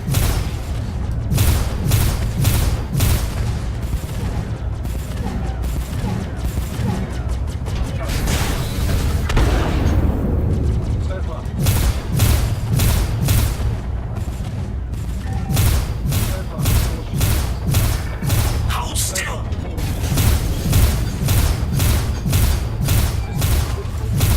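Missiles launching and exploding during a ship battle in the Star Citizen space game, a long barrage of loud repeated thumps and booms in quick rhythmic volleys, with a brief lull midway.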